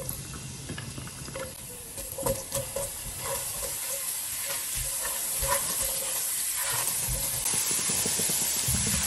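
Chopped garlic frying in about four tablespoons of cooking oil: a continuous close sizzle with occasional stirring scrapes and clatter, building slightly louder over time.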